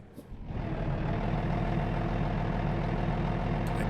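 A heavy truck rumbles past on a road in American Truck Simulator, its deep engine drone swelling in quickly and then holding loud and steady.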